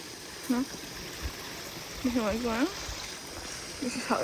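A stream flows with a steady rushing murmur, while a person talks intermittently over the water.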